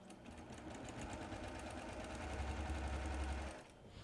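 A sewing machine stitches two pieces of fabric together in a fast, even whir for about three and a half seconds before stopping. The sound is fairly faint and steady.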